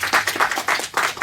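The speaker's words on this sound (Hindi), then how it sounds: "एक बार जोरदार ताली सभी के लिए।" An audience clapping for the participants at a junior quiz show finale, a short burst of brisk, loud applause in uneven waves.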